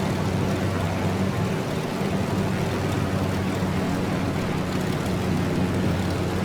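A model airplane flying low through a gorge in an RC flight simulator gives a loud, continuous engine drone, even and unbroken throughout with no other sounds.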